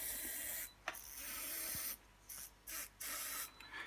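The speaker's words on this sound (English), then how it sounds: "spray inside the brake system" Spray lubricant hissing into the brake system of a Stokke Xplory stroller, in several bursts: a long spray, a pause, another long burst, then shorter spurts, all close and fairly quiet with no talk.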